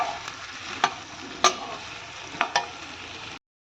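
Vegetable curry without onion or tomato sizzles steadily in a pan while a spoon stirs it, several sharp scraping clinks over a continuous frying hiss, close and without talk.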